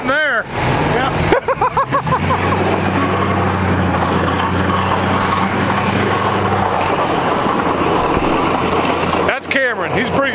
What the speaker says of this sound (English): So he's driving his truck over here, and one of his guys is driving my truck right there.